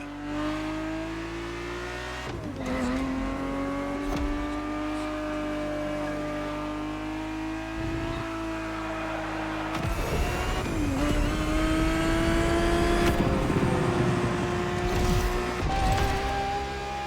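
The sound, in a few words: Ferrari 365 GTB4 engine revving in video game The Crew Motorfest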